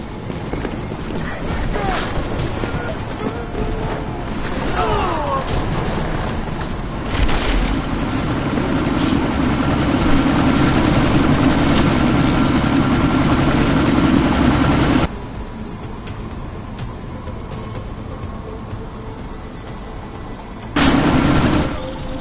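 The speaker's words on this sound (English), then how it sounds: "That chopper's about to take off!" Helicopter lifting off in a PS4 combat video game, a loud steady rotor thrum and engine roar that holds throughout, with a sudden drop in level partway and brief mechanical clanks and distant shots.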